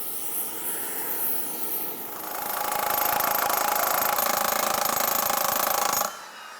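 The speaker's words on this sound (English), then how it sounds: "then we'll jackhammer" Jackhammer working on a Canadian Ram Kangaroo track in a workshop, a loud, rapid continuous hammering that grows stronger midway, holds steady for several seconds and then cuts off abruptly.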